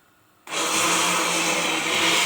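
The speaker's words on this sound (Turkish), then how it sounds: "şimdi kolay bir şekilde e, blenderdan geçiliyorum arkadaşlar" A blender switches on abruptly and runs steadily at full speed, pureeing tomatoes for homemade tomato paste, a loud continuous whirring roar with no voices.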